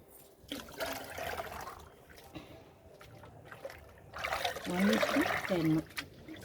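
Water left from washing rice is poured from a container onto potted plants, giving a soft splashing trickle that swells toward the end, with light background noise and a few faint knocks.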